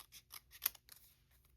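Scissors snip through paper during papercrafting, with a quick series of soft, close cuts and one sharper snip in the middle.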